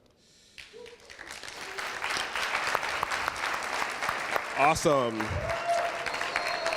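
Audience applause after a developer demo at a DemoJam event, steady dense clapping swelling over several seconds, with a brief spoken exclamation over it near the end.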